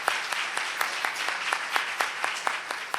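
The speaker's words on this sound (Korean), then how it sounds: "큰 박수로 환영 부탁드립니다" A few people clapping at a talk concert to welcome a guest, sparse regular claps spaced evenly and fairly close, with no voices.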